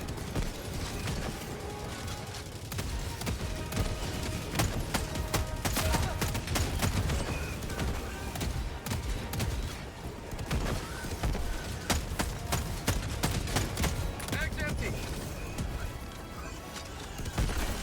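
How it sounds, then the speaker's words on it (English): Autocannon sentry firing at enemies during an Automaton defense mission in Helldivers 2, with dense repeated gunfire bursts and crashing impacts layered over a constant battle din throughout. "the autocannon is able to shoot down enemies from super far away"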